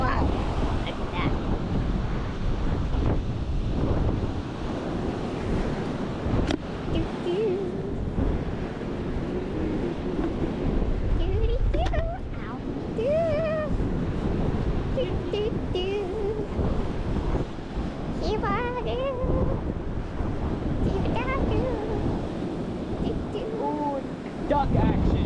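Strong wind gusting by the sea on a very cold day, steady roaring buffeting across the microphone with surf-like rushing throughout, close and loud, with brief speech heard.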